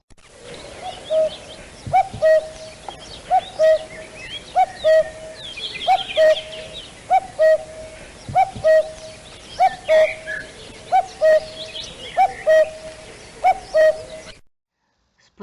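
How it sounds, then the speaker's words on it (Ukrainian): A common cuckoo repeats its two-note call about a dozen times at a steady, even pace, clear and fairly close, while other birds chirp and twitter faintly in the background. "Давайте послухаємо, які звуки. іздає зозуля."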